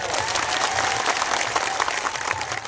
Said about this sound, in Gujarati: જોરદાર તાળીઓ પણ લઈએ